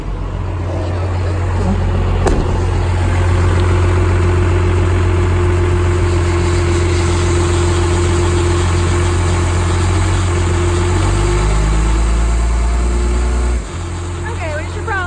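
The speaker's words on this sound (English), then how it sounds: "you can hear the transmission" A 12-valve truck with a blown 47RE automatic transmission idles up close, giving a loud, steady, rumbling drone that runs unbroken for about fifteen seconds and then drops slightly near the end.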